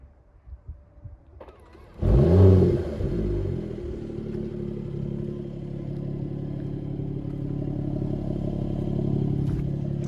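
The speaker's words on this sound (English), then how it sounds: "hear the sound of this 6-cylinder inline" A Mercedes-AMG E53 inline six-cylinder engine cranks and fires up with a loud burst, then settles into a steady, deep idle that swells slightly toward the end, heard close by.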